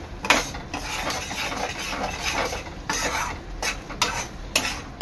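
Semolina roasting in a pan is stirred with a spoon, giving close, loud scraping strokes in an uneven rhythm over a faint dry sizzle, with a few sharp metallic clinks.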